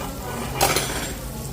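Pork cooks on a Thai mookata grill at a buffet in Sinsa, Korea, with a steady sizzle and the brief clatter of tongs and utensils against the pan partway through.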